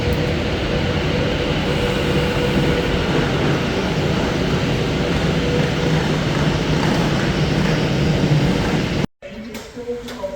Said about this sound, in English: And look what's coming in right in front of it on cue. Avanti West Coast Pendolino.